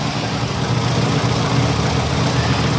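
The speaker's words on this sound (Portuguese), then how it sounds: "Óleo trocado, motor funcionando. Tudo redondinho, tudo bonitinho, marcha lenta ok" A Ford Ka engine idles right after an oil change, a close, loud, steady rumble with a constant low vibration and no voices over it.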